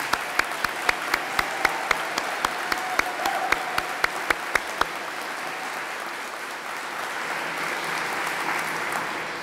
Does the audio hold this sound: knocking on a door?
no